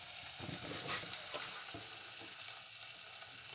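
Gravy sauce cooking in a pan, a soft, steady sizzle and bubbling that stays low and even throughout, with no talking over it.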